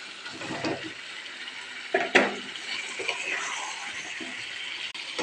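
Eggs and potatoes go into masala frying in oil in a pan, giving a soft splash and sizzle with a clink of utensil against the pan, steady and close with no talk.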